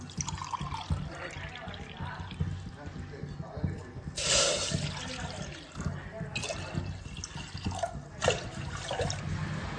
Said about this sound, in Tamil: அதுலேயும் 3 டம்ளர் தண்ணி ஊற்றுங்க.